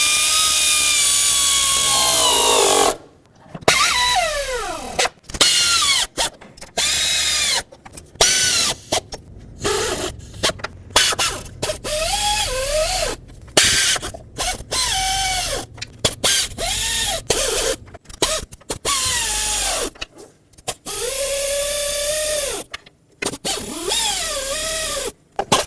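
A power tool runs down and snugs up bolts on a 1997-2003 Ford F-150 5.4L engine during timing chain work, in repeated whirring bursts with short pauses, loud and close.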